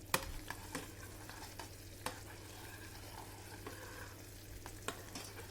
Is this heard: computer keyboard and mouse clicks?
no